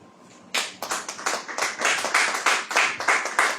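A church congregation breaks into brisk clapping after a quiet start, a run of close, rhythmic handclaps that holds steady with no voices heard over it.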